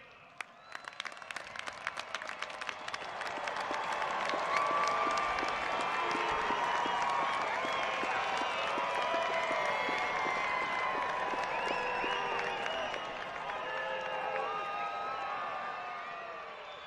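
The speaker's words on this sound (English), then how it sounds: "give a round of applause to your families" Large crowd at an Air Force Academy graduation, 2021, breaking into sustained applause and cheering for families, building from scattered claps to a dense, loud roar that holds steady, with faint voices mixed in.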